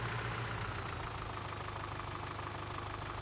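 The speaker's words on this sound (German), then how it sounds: "Herbie, unser kleiner Traktor." Small tractor engine idling in Farming Simulator 2013, a steady low, even rumble with a faint mechanical knock running throughout, held close and alone with no talk.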